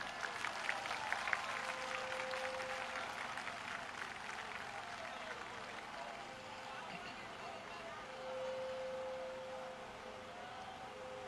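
A large crowd at an outdoor political rally and march claps and cheers in a sustained, dense wash of applause, with a faint siren-like tone rising over it and voices mixed in.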